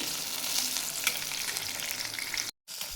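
Green chillies fry in hot oil with a loud, steady sizzle and crackle close by. A brief dropout cuts the sound just before the end.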